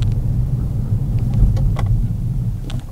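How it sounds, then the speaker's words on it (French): Peugeot 208 GT Line with 130 hp engine, heard from inside during a braking test on a village road, a steady low road rumble and engine drone throughout with faint brief ticks, no talk. "Un petit test de freinage"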